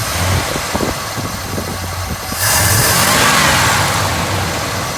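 A car engine idling low after carburetor adjustment, a steady close rumble with uneven low pulses that swells into louder revving partway through.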